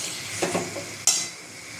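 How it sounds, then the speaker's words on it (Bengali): Chicken sautés with yogurt in a pan, giving a steady sizzle with a few soft stirring scrapes and one sharper clink of a utensil, close and moderately loud. "দিয়ে দিলাম। মাংসটাকে ভালো করে আমি কষাবো"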